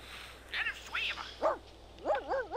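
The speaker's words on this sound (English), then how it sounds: "Stop barking at everything, Chester." A dog barking in The Sims 2, a string of four short yappy barks and yips of rising and falling pitch, close and clear over faint game background sound.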